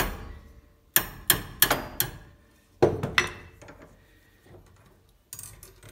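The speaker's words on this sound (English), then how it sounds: "It looks like I'm gonna have to apply some hammer force this way." Several sharp metallic hammer blows on a metal plate holder ring out close by in uneven bursts, with quieter taps and clinks between them.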